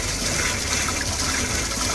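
Hot water runs steadily from a sink tap during a shrimp tank water change, a constant close rushing gush with no pauses and no voices.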